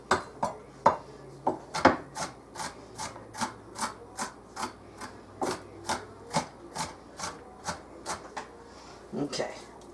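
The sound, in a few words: chopping an onion with a knife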